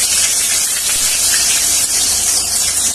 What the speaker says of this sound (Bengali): আমার তেলটা গরম হয়ে আসছে, এর মধ্যে ফোড়নের জন্য দিয়ে দেব একটা তেজপাতা